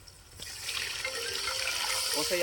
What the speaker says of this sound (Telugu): చేసి పెట్టుకున్న చింతపండు పులుసు పోసేసుకుందాం